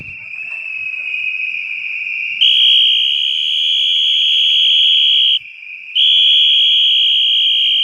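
Shrill, steady whistling from protesters blowing whistles at a demonstration in Ayvalık against price hikes, one loud sustained tone that steps up in pitch, drops out briefly, then resumes.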